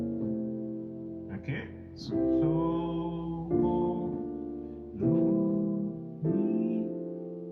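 Piano chords in a South African gospel style, with an inner voice moving chromatically downward, sounding as sustained held chords that change every second or so, opening with a few spoken words before the playing continues.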